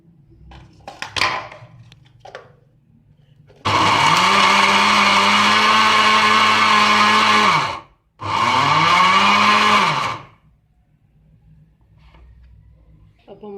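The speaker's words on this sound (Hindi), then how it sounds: "आधे हम डाल के ग्राइंड करेंगे।" A kitchen grinder whirs loudly as it blends boiled potatoes and green chillies, running in two long bursts with a short pause between them, after a brief voice and a clatter beforehand.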